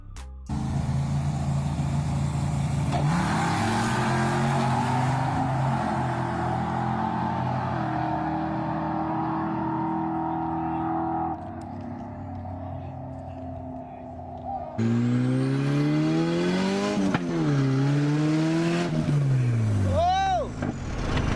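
Turbocharged Nissan KA24E car accelerating hard, a loud engine note whose pitch climbs steadily, then a second harder pull with rising and falling revs near the end, with voices talking over parts of it.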